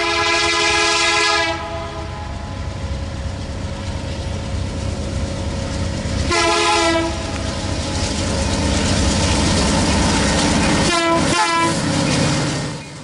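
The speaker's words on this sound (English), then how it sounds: "The train on the approach is A442." A CN freight train led by an SD75I and a C44-9WL locomotive approaches at night on a Canadian prairie line, its horn sounding several blasts over a loud, steady rumble of engines and rolling cars.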